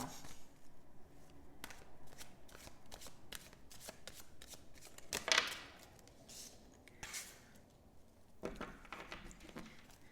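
Tarot cards shuffled by hand: a steady run of quick papery riffles and taps with a louder burst midway, close and moderately quiet, with no speech.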